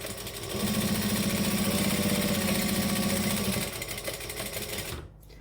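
A sewing machine runs a steady top stitch on a Rascal add-on, its motor whirring loud and close for about three seconds before slowing and stopping, with no talk.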